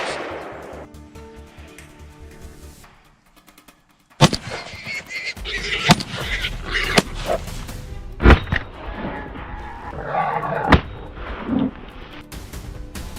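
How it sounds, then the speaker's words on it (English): Rifle shots during a large-scale wild boar hunt in Siberia, a series of sharp cracks spaced irregularly over several seconds, fairly close, with scattered noise between them after a brief quiet stretch. "Gunshots rang out, one after another, and the targets dropped like dominoes."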